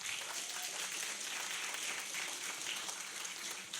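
A studio audience applauds steadily at a recorded talk with Lord Neuberger, a dense, even wash of clapping held for several seconds with no pauses or voices over it.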